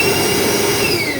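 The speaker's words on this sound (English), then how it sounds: "Next tool I have is my Milwaukee M18 hammer drill and a vacuum cleaner from Milwaukee" A Milwaukee vacuum cleaner sucks concrete dust out of a hole drilled with a Milwaukee M18 hammer drill while an ATM is anchored to the floor, giving a loud, steady whooshing motor roar that runs continuously.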